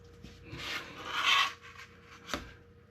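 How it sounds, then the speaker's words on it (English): Blade drawn along a ruler to trim printed cardstock, a soft scraping rasp that swells for about a second, followed later by a short sharper cut, close and fairly quiet with no talk. "I have to bring out my ruler and trim a little bit off of this."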